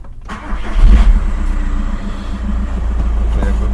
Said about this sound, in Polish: Teraz będę mówił głośniej, słuchajcie, bo nam silnik chodzi.